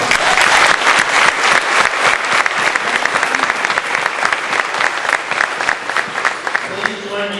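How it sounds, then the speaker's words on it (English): Loud, vigorous applause from dinner guests at an awards banquet, with many hands clapping in a dense, energetic roll that continues throughout and eases slightly at the very end. "Please join me in a round of applause for all of our guests and awardees."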